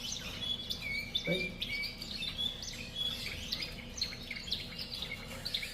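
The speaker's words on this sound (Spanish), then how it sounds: "Mira el pájaro que está cantando." Small birds in an aviary chirp and tweet in quick, repeated bursts, fairly faint against a low background hum, while someone briefly speaks.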